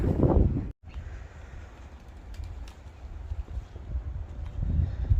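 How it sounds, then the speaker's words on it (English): Heavy wind buffeting the microphone, a low rumbling roar that gusts throughout with a brief dropout near the start. "Sorry about the wind."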